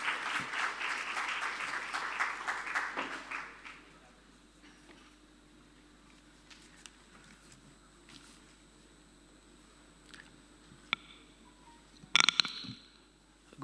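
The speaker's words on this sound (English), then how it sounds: "Can we give him a big round of applause," A media festival audience claps loudly for about four seconds, then the applause fades to a quiet room with scattered small noises and a sharp bump near the end.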